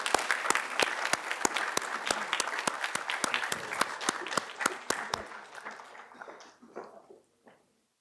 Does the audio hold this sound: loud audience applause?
yes